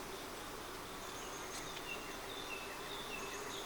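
Honeybees buzzing in a hive weakened by robbing during a dearth, a faint steady hum with a few higher passing buzzes of individual bees and occasional distant bird chirps.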